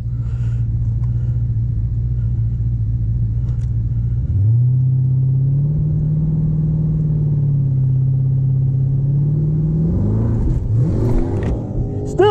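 A Dodge Hellcat fitted with an old transmission holds a steady low idle rumble, then revs up and hums at higher pitch for several seconds before a rising roar as it launches, close and loud.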